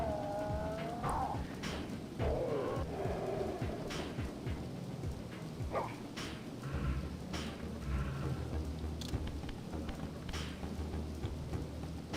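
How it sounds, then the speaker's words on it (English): Steady rain with rumbling thunder fills the Soul Reaver video game scene, a continuous wash of downpour and low rolls of thunder throughout, with no talking. "Ooh, it's raining here."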